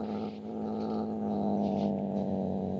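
A cat purrs steadily and loudly up close while being petted, with a low growling rumble blended into the continuous vibrating drone.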